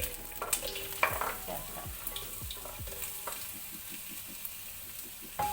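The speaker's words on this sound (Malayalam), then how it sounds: "സവാള ഒന്ന് വഴന്ന് വരട്ടെ." Two chopped onions sauté in a couple of teaspoons of hot oil for butter chicken masala, a steady soft sizzle with occasional spatula scrapes and stirs, close and moderate in level, with one brief spoken word.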